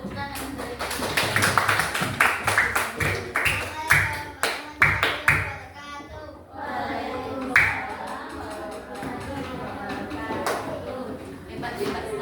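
Hands clap in a classroom lesson, sharp individual claps in quick rhythmic bursts, loud and close, then a pause before scattered claps return under children's and a teacher's voices.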